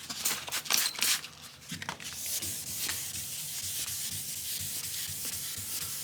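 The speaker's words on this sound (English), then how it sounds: "what we're trying to do here is sand this just enough to where that orange peel is gone" Wet-sanding orange peel out of the trunk paint of a 1977 Camaro Z28: a close, scratchy rubbing with a few sharp scrapes early, then settling into steady, even strokes, no talk.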